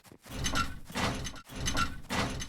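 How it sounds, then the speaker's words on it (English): Corrugated steel door in the video game Eco opening, a rolling metallic mechanical rumble in two long sweeping passes separated by a short pause. "at least corrugated steel has nice doors"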